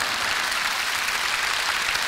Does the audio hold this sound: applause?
yes